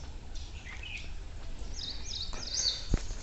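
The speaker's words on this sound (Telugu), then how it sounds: "మీరు వింటే ఇక్కడ పిచ్చుకల సౌండ్ కూడా వస్తుందండి" Sparrows chirp faintly near a Shiva temple in Vikarabad, with scattered high tweets over a soft outdoor hush and one brief knock near the end.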